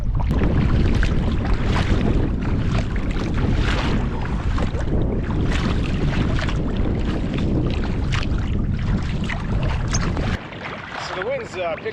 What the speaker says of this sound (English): It's not super windy, but it's kicking up a few waves.